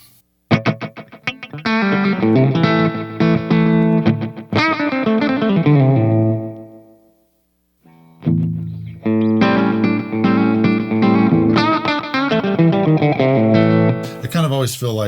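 Electric guitar run through a Donner Arena 2000 multi-effects pedal and amp modeler, strummed chords with distortion and chorus, ringing out, a brief silent gap, then more strummed playing.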